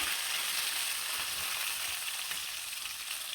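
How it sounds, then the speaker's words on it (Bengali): Spiced river fish heads frying in hot oil make a dense, even sizzle with a fine crackling hiss, steady and close, with no speech over it. "গরম তেলে কিন্তু মাথাগুলো দিয়ে দিলাম"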